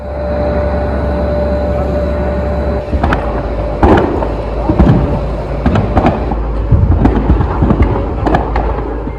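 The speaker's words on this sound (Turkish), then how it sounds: "Peş peşe yaşanan patlamalar herkesi korkuttu." Loud, booming explosions during a building fire in Konya go off one after another over a constant roaring rumble, several sharp bangs in quick succession.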